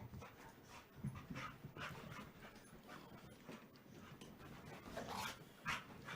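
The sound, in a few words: dog panting while playing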